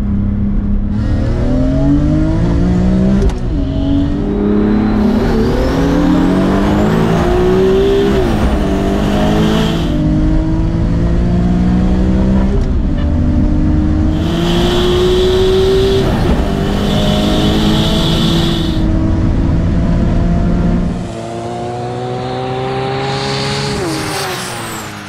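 A 600 hp BMW E34 drift car and a BMW M3 track car race side by side in a drag race. The engines scream loud and close through repeated rising gear-shift sweeps, then drop to a lower roar near the end.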